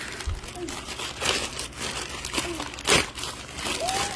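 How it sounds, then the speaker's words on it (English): A foil envelope shipping package from Amazon crinkles and rustles in hand, with irregular crackling bursts and a sharper crunch near the end, close to the microphone. "here I have an Amazon package. It's a foil envelope."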